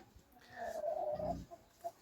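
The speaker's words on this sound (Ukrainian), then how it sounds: "ось такі кури" Soft, close clucking from a chicken, a brief murmuring burst followed by a couple of quieter clucks.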